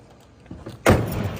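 A door on a 1969 Pontiac Bonneville Thunder Wagon closes with a single solid thump after a couple of soft handling clicks, loud and close.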